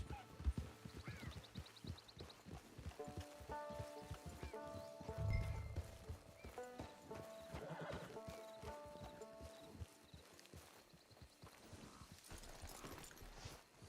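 Horse hooves clip-clop in a steady rhythm in Red Dead Redemption 2, with whinnies and snorts mixed in and faint game voices around the animal.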